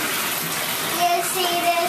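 Water splashing and sloshing in a household bathtub, a close, continuous watery rush with small surges, while a voice is faintly present.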